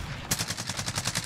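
Call of Duty gunfire: a fast, evenly spaced automatic burst of about a dozen sharp shots, loud and close, starting abruptly after a brief quiet.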